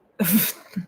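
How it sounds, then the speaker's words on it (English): A single sharp sneeze close by, a burst of breathy noise followed by a short voiced catch of breath. "Did you sneeze again?"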